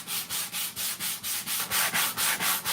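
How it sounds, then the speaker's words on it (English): Edge of a piece for a miniature diorama sanded with 120 grit sandpaper on a sanding block, about a dozen even back-and-forth rasping strokes in steady rhythm, close and loud, no speech. "120 grit sandpaper on a sanding block"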